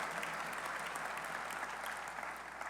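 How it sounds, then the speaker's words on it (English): Steady applause from an audience at a university press conference for a new head football coach, faint and distant, filling the room without a break. "Give them a round of applause."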